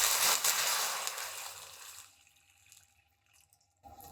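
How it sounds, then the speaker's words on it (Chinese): Boiling water is poured into a wok over ginger and scallions with Shaoxing wine, giving a loud, steady rushing pour that fades to quiet, followed by faint sizzling and bubbling. "再加进去一些开水"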